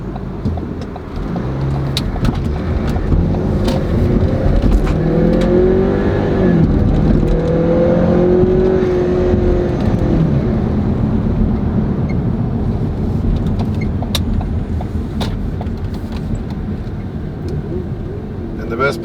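Ford Escape with a 2.0L EcoBoost engine cruising on the road, a steady low engine drone and road rumble inside the cabin, with speech running over it.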